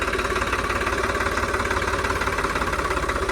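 A 2018 New Holland tractor engine runs at a steady idle, with a loud, even low-pitched chug and a fine rhythmic knock throughout, close and alone without voices.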